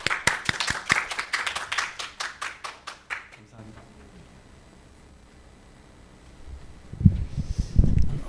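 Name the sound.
audience applause welcoming speaker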